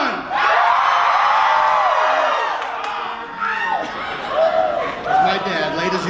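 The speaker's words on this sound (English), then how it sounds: "Somebody scream, come on!" Convention panel audience at a Knott's Scary Farm event erupts in loud screaming, whooping and cheering, a dense crowd roar that swells, dips briefly, then surges again.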